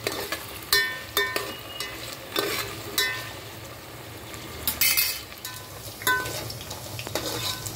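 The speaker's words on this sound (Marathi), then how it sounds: "तोपर्यंत आपण इथे आपल्या भाज्या सुद्धा फ्राय होत आहेत। फ्राय करून घेऊया व्यवस्थित।" Vegetables fry in hot oil for veg biryani, a soft sizzle under repeated clinks and scrapes of a spoon stirring in the pan.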